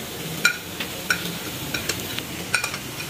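Chicken samosa filling cooks in a pan over a normal flame, a soft sizzle with several sharp clicks of a spoon stirring against the pan, quiet and close.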